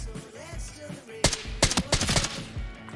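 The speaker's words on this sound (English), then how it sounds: "Oh, there's some gunfire. Oh, there might be silenced gunfire." Gunfire in a video game extraction shooter cracks out in several sharp bursts of close, loud shots, with quieter rumbling game ambience between them.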